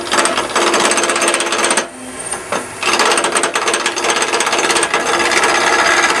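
A pistol drill spins a scruffy abrasive pad against a wooden tool handle, a loud, close, continuous rasping whir that drops out for about a second midway, then resumes steadily.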